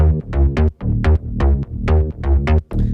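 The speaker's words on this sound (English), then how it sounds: "altogether the bass sounds like this" Processed electronic bass line from a remix, a rhythmic pulsing pattern of short punchy tones repeating in a steady groove, loud and upfront with no voices.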